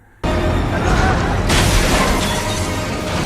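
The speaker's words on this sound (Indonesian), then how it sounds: "bom ranjau meledak di kiri dan kanan jalan" Landmine bombs detonate along both sides of a road in an action movie: a sudden loud blast bursts in after a brief quiet, followed by a second surge and sustained rumbling debris and crashing noise.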